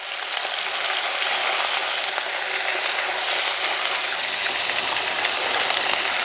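Mourala fish sizzle and spit steadily in smoking-hot mustard oil in a wok, a dense, continuous crackling hiss heard close up with no talking.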